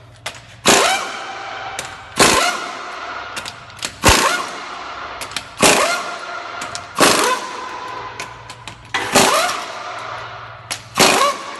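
Loud pneumatic impact wrench bursts as lug nuts come off a Chevy Express van wheel, about six sharp rattling hammering runs spaced a couple of seconds apart, each tailing off with a whirring spin.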